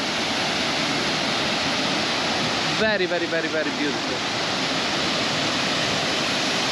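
A waterfall in Laos during low season roars as a steady broad rush of falling water throughout, with someone briefly talking over it partway through.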